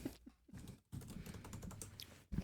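Rapid clicking of fingers typing on a computer keyboard, close and fairly quiet, in uneven bursts with a brief pause partway through.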